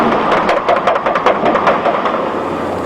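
A news helicopter flies over hurricane damage, its rotor beating in a fast, loud, close pulsing chop that repeats evenly several times a second and fades slightly toward the end.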